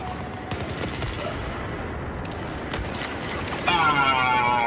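Rapid Battlefield 4 video game gunfire rattles in bursts of automatic shots with sharp single cracks mixed in, fairly close, and a brief whooshing effect near the end.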